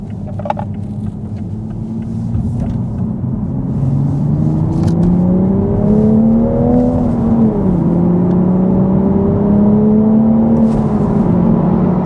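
Manual Toyota MK5 Supra accelerating hard on the road, engine drone rising in pitch, dipping briefly at a gear change and climbing again, heard loud from inside the cabin.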